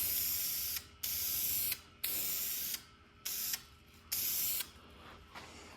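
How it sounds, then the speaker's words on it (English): A spray gun sprays high-build primer on a 1968 Ford Bronco, hissing in a series of short bursts, about six sprays with brief pauses between, close and steady, with no talking. "Gonna spray in some high bell primer here."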